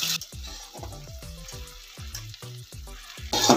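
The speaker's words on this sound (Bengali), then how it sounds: "টমেটোটাকে আমি মিনিট 2 ভেজে নেব" Tomato frying in a pan for an egg bhurji curry, a loud close sizzle broken by rhythmic stirring scrapes, with a burst of hissing near the end and no speech.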